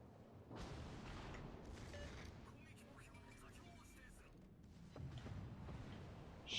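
Amagi battleship secondary guns firing in World of Warships Legends: a dense, continuous barrage of booming cannon shots and rumbling blasts, loud and close throughout, swelling again near the end.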